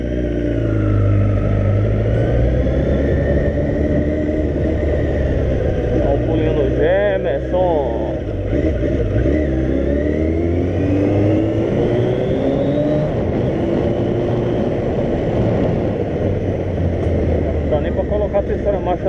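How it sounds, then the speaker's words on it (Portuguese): A Hayabusa motorcycle engine roars steadily in third gear with rising and falling revs, loud and close, with wind noise and a voice talking over it. "Terceira marcha nessa moto, é incrível."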